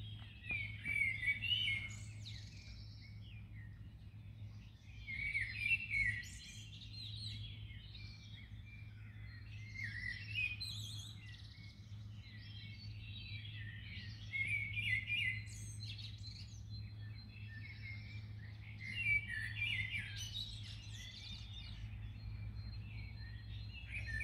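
Birds sing in the early morning from a rooftop, a continuous run of bright chirps and trills heard faintly at a distance over a low steady hum.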